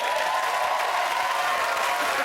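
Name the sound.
studio audience applause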